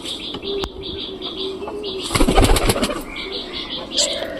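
Pigeons at a nesting spot coo in low repeated calls with a few chirps, nearby and fairly loud, with a burst of wing or handling noise midway and voices partly overlapping.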